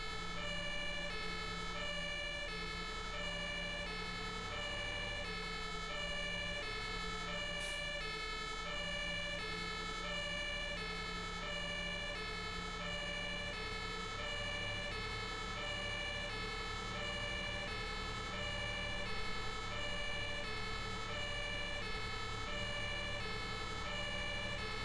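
A fire engine siren wails steadily as the vehicle heads out to a call in Farming Simulator 15, a continuous loud oscillating tone over engine rumble, with no talk.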